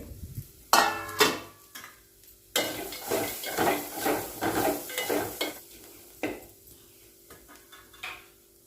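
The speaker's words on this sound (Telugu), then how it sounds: "ఇప్పుడు కొబ్బరి పొడి ధనియాల పొడి కారం కూడా వేసుకొని అంతా కలుపుకోవాలి" Coconut powder, coriander powder and chili powder stirred into frying ivy gourd, a run of rhythmic scraping strokes of a spatula against the pan over a light sizzle, close and fairly loud, with pauses between bursts.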